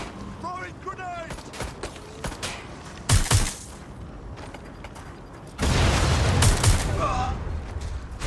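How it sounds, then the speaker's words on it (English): Gunfire bursts and a grenade blast in a Watch Dogs Legion firefight, with sharp loud bangs around the three-second mark and a sustained heavy roar of explosion and shooting in the second half, under occasional game voices. "Throwing grenade!"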